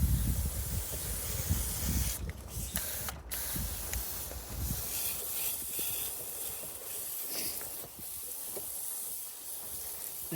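Water sprayed from close range onto a Suzuki GSX1250FA motorcycle chain to rinse it clean, a soft, continuous hiss with brief pauses.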